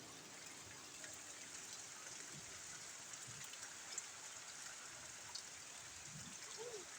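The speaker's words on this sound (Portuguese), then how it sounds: "Choveu." Rain falls steadily on a farm in Brazil where cows stand out in the weather, a constant soft hiss with occasional faint drips, heard from outdoors at moderate distance without talking.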